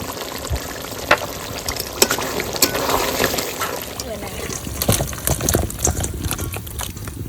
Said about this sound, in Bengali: ফুটতে যতটা জল লাগবে জলটা দেবো